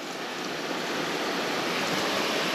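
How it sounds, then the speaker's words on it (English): Water runs steadily from a tap fitted to a 4WD vehicle on an overland touring trip, a continuous close hiss with no break across the moment and no voices. "then you got running water."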